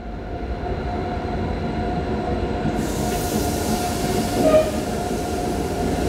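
A train rolls through Braunschweig main station in the dark with a steady, loud rumble. Wheels squeal briefly partway through, and no one speaks.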